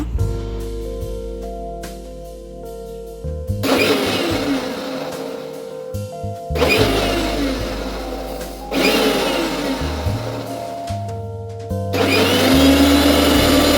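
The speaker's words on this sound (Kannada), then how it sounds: "ಇದನ್ನ ಮಿಕ್ಸಿಲಿ ನಾನು ಜೆಂಟಲಾಗಿ ರುಬ್ಕೊಳ್ತೇನೆ" A kitchen mixer grinder churns butter with plain water in several separate pulses, each a loud, harsh whirring roar that starts abruptly, runs a few seconds, then drops back to a lower hum before the next burst.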